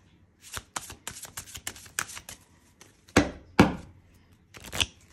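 Tarot cards are shuffled and drawn by hand, a run of quick crisp riffling flicks followed by a few heavier slaps and snaps as cards are laid down, close and clear with no talking.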